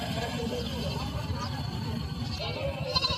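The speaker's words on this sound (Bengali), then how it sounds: "দেশি ছাগল দিয়ে ভরপুর থাকে।" Native goats bleat at a crowded rural goat market in Dinajpur, their calls heard under a dense, steady murmur of many voices and trading chatter close by.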